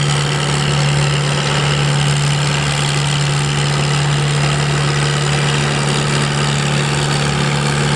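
Big Farmall H four-cylinder gas pulling tractor idles steadily at a truck and tractor pull, a loud, even low rumble with a strong constant hum running unbroken throughout.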